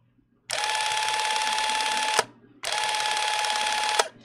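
A Leicina Super 8 cine camera runs after its top button is pressed, giving two steady mechanical whirring bursts of about two seconds each, close and loud, separated by a short pause with no speech.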